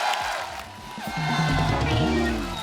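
A live audience cheers and whoops loudly to welcome a rapper at an event, a sustained crowd roar rising in the second half, mixed with shouting voices.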